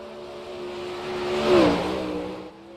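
Number 14 race car accelerating hard down a short track on a Monday night program, engine note swelling as it nears, peaking mid-clip with a whooshing pass, then fading off into the distance.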